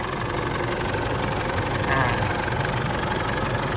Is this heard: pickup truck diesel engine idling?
yes